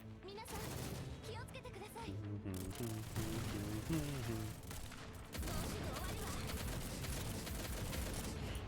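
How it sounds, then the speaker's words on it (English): Machine gun fire crackles in dense, continuous bursts in a video game, layered under music and voices throughout. "Because they use machine guns."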